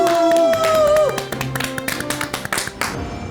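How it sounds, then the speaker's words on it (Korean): Audience applause welcoming a guest speaker in a lecture setting, scattered sharp claps starting after a short musical sting and continuing unevenly for a couple of seconds. "큰 박수로 모셔주시기 바랍니다"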